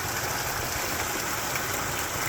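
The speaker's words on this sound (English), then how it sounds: "Hey, this pond, or this waterfall, there's nothing like it." Backyard pond waterfall splashing steadily, a continuous close hiss of falling water with no break and no voices.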